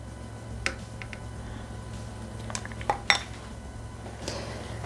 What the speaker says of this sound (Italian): Togliere la farfalla dal boccale.